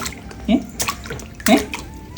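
Water splashes twice in a small rooftop pool built on top of a house, each burst sharp and close, with a voice speaking briefly between them.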